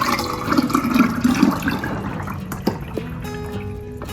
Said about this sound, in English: you can go ahead and pour it very carefully into your jar